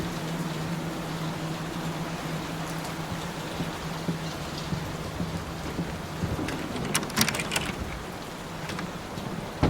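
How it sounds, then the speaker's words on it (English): Steady heavy rain pours throughout a storm in the horror game Layers of Fear, a dense continuous hiss with a low rumble beneath and a few sharper crackles near the end, heard alone without any voices. "Will this storm ever run out of rain?"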